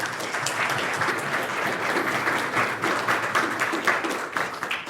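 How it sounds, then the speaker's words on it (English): Sustained audience applause at a NixOS community conference talk, a dense, steady wash of many hands clapping for the whole stretch with no voices over it. "Let's give him a round of applause."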